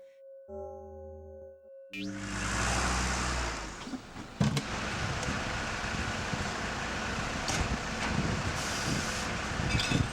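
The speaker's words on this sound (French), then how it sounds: "Une fois que le camion a ramassé le verre" After a short chime, a glass recycling collection truck rumbles close by with a loud, continuous engine drone, punctuated by a sharp clatter or hiss.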